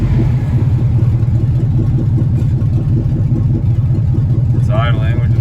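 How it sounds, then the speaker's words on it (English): The engine of a 1982 Chevy Scottsdale truck, fitted with a new distributor cap, idles loudly and close by with a steady, even low pulse throughout, and a brief voice is heard near the end. "It's idling, which is good."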